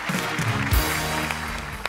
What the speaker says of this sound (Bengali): টাসেলের জন্য জোরে হাততালি